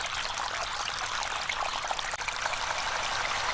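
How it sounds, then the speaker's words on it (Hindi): A strong water fountain gushing up in a dry pond, heard as a continuous close rush of splashing, pouring water with no pauses. "एक तेज पानी का फंवारा निकला"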